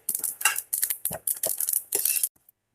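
Dry roasted spices, cumin and sesame seeds among them, scraped and poured from a pan into a bowl, giving a run of close metallic clinks and rattling scrapes before a sudden stop.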